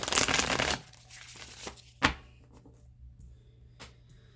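A burst of tarot card shuffling riffles for under a second, then quiet handling with a couple of sharp taps and snaps.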